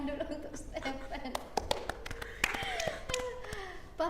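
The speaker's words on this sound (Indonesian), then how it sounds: "Tepuk tangan dulu untuk Stephen." Scattered hand claps from a small group at a school celebration for SMAN 1 Matauli Pandan students, sharp uneven slaps ringing out close by while people keep talking and chuckle underneath.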